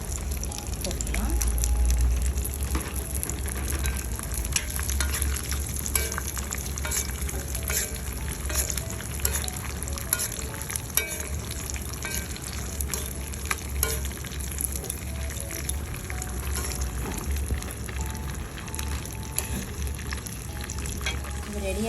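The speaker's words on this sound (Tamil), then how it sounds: "அடுத்தது நம்ம எடுத்து வச்சுருக்கோங்க திராட்சை, இதையும் நம்ம போட்டுக்கலாம்." Raisins fry in a pan for sweet pongal, making a continuous close sizzle with occasional stirring scrapes that holds steady throughout.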